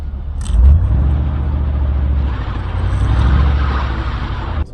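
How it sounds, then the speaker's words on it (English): The tires of a 1952 Chevrolet Styleline Deluxe spin with the engine running, producing a loud, close, steady low rumble and whir that swells slightly midway before cutting off abruptly. "Ooh, the tires are spinning already."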